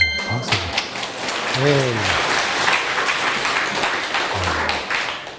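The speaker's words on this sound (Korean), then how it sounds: "오, 박수." Audience applause in a lecture hall, a burst of many hands clapping that swells and holds steadily, with a brief spoken word and some low tonal sounds near the start and a few thuds.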